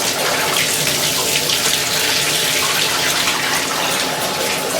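Bathtub faucet cranked fully open runs hot water in a steady, loud, unbroken rush that fills the whole stretch with a broad hiss.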